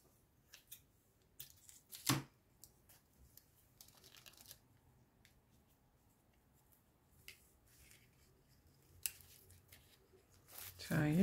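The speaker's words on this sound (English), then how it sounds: "Scissors." Scissors snip paper while an envelope journal is made, giving a few sharp crisp cuts spread across a quiet background with soft handling noises between them.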